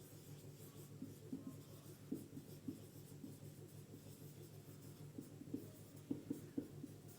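Chalk scratching across a classroom board in a series of short strokes and taps, close and fairly quiet, with no talking over it.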